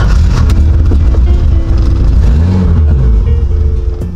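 A BMW E30 engine idles loudly with a steady low hum, the pitch wavering and sagging near the end as it starts to falter and stall.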